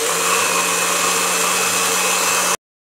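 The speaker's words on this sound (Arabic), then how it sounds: "غادي نكمل انا الطحين ديال جوج ديال كيف كتشوفوا الكؤوس ديال العصائر مع اضافه الجزر واضافه الماء" A kitchen blender grinds fruit, carrots and water into juice, a steady high whirring drone running loud and close before cutting off abruptly near the end.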